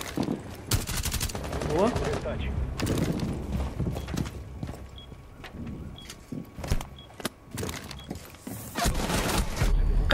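Gunfire from the PC game Rainbow Six Siege, a close-range shootout with sharp repeated shots and bursts scattered through the clip, mixed with game noise while a player talks over it.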